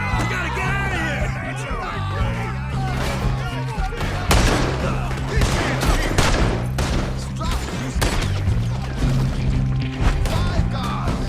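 Rapid gunfire crackles through a Red Dead Redemption 2 shootout, dense overlapping shots and bursts repeating for about eleven seconds over a thick, steady game score.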